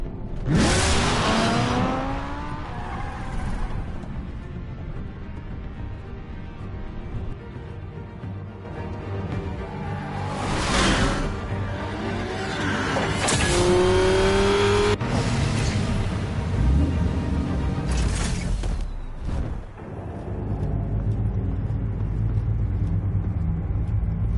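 A car engine revs in a Batman video game, surging loudly in several bursts with whirring passes and dips between them, alone without talk.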